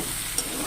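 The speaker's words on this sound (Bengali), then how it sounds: "দিয়ে আবার ওটা বেশ কিছুক্ষণ ভেজে নেব।" Pumpkin and potato pieces frying in a pan with turmeric and salt for a traditional vegetarian pumpkin chhokka, a steady close sizzle with light stirring throughout, no voices.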